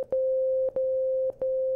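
A Yamaha DX21 synthesizer plays a steady single-operator sine wave tone, a pure mid-pitched hum that stops in three short gaps, each starting again with a soft click.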